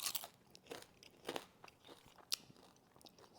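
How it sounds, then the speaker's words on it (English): Crisp crunching and chewing on sautéed bites served with chicken Francese, several sharp crunches in a quiet, close mouth-noise sequence with no talking. "I don't know if you can hear the crunch"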